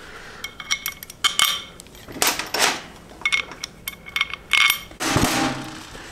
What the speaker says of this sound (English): all you're gonna do is just drop these bolts right through here